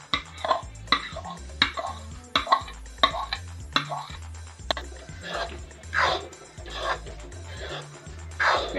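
A spoon stirs besan (gram flour) in ghee in a pan over a slow flame, giving repeated scraping strokes in a steady rhythm, close and moderately quiet.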